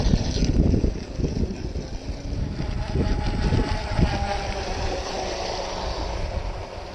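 A ProMarine MTR RC catamaran boat's electric motor runs at low throttle outdoors, a fairly steady whirring drone mixed with wind buffeting and water noise, with no talk over it.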